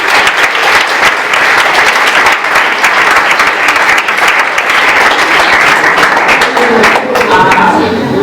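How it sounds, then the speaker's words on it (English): Loud, sustained clapping from delegates in a general assembly session, crisp overlapping hand claps forming a dense continuous roar that stays even throughout, with a faint voice emerging near the end. "Clapping is in order."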